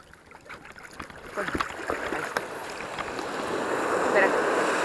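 Sea waves break and wash around an inflatable raft being launched from a beach for squid fishing, a steady rushing surf that swells louder toward the end, with wind buffeting the microphone.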